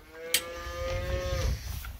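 Calves on a farm low in a single drawn-out moo, fairly close and clear over a faint background rustle, followed by softer shuffling noises.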